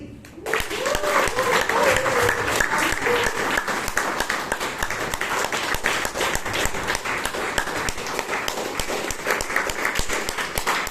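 Loud, steady audience applause at a Toastmasters club meeting in Bangalore, welcoming a person onto the stage; many hands clap continuously after a brief quiet start, with a voice faintly underneath early on.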